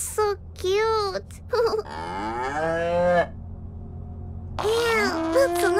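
A herd of cows on a field in the video game Little Misfortune gives a string of loud, nearby moos, several long bellowing calls overlapping in quick succession over a steady low background hum.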